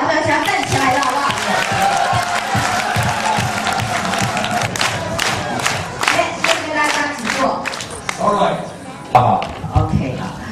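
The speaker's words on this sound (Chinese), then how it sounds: "Stand up and give yourself a standing ovation" A large seminar audience on their feet, applauding and cheering loudly and continuously, with shouts mixed into the dense clapping, which thins slightly toward the end.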